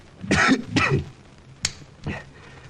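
A man coughs close by: two harsh coughs in quick succession, a short sharp click, then one more cough after a brief pause.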